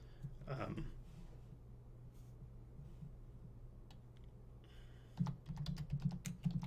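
Keys tapped on a computer keyboard while entering a search term into a blog site's search bar, a faint brief burst early, then a quicker run of clicks near the end over a steady low hum.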